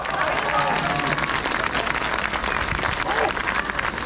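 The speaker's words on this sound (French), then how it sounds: "On peut les applaudir bien fort." Crowd applause fills a peace demonstration on an open Paris square, steady and loud for the whole stretch, a dense wash of many hands clapping with faint voices and cheers mixed in.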